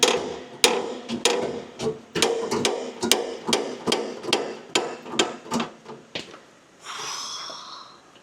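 Hammering a bearing out of a Lamborghini Aventador in a workshop: a steady run of sharp metallic hammer blows, about two per second and close up, then a brief hiss at the end.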